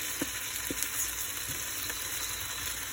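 Garlic sizzles steadily in hot olive oil at the start of a shrimp stir fry, a close, even frying hiss with a few soft pops and no talking.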